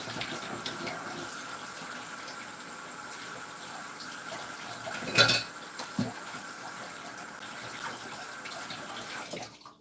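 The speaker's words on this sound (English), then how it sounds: "I'm going to wash my hands real quick." A tap runs steadily as hands are washed under the stream, a faint continuous splashing with a brief louder clatter midway before the water cuts off at the end.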